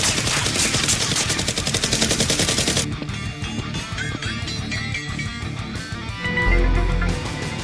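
Rapid bursts of gunfire rattle out of a staged Nerf gun fight, a dense continuous stream at first, then scattered sharper shots with a low thump near the end.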